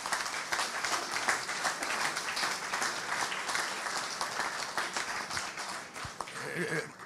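Sustained applause from an audience, many hands clapping in a dense, even patter for several seconds.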